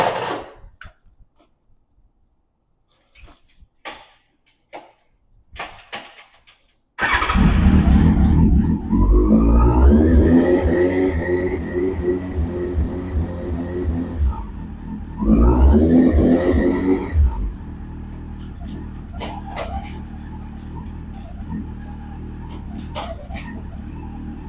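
A Yamaha FZ1 motorcycle with about 50,000 miles and a quickshifter starts with a few scattered clicks, then its engine rumbles loudly, rising and settling through revs, with a second louder surge before idling steadily.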